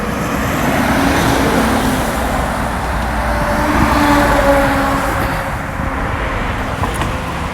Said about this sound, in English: Look at these trucks.